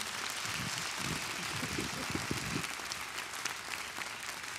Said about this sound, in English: Can we give them all a round of applause and appreciation?